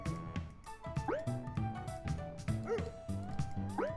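A dog yips, barks and whimpers in a repeating pattern in an indie itch.io video game, close and clear over a looping game soundtrack.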